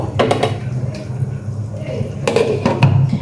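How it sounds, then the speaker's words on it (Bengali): A metal lid set down on a pan of mustard hilsa fish, giving a few short clanks close by, with a voice speaking over part of it. "এখন আমি ঢাকনা দিয়ে আবার পাঁচ মিনিটের মতো"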